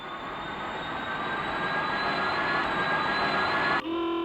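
Jet engine of an English Electric Canberra bomber roaring at high power, a loud, continuous, steady blast with a sharp tonal whine that holds for several seconds before briefly dipping and resuming.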